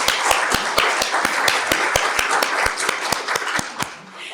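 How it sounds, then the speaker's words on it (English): An audience at an alumni brunch applauds university leadership, with sharp, evenly spaced near handclaps standing out over a softer bed of clapping from the room before it trails off at the end. "Could you please join me in a round of applause for our incredible leadership, President Fembes and Provost Belanconga."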